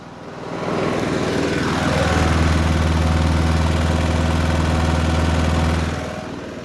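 A 2007 Snapper 21-inch steel deck lawn mower with a Briggs & Stratton engine and electric start runs nearby, its engine settling into a loud, steady drone for several seconds before easing off at the end.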